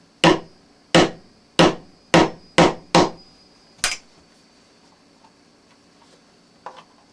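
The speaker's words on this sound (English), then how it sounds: "Slide the Arduino out and tap it home with a hammer." Six sharp hammer taps driving an Arduino home into a belt loop, close and evenly spaced at first, then a single later blow followed by a faint small knock.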